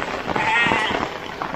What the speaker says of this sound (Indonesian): domba apa ini?